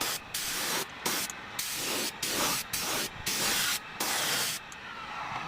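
A spray finish is misted in repeated short bursts over a steering wheel being recoated, each hiss starting and stopping in a steady rhythm, close and fairly loud with no talking.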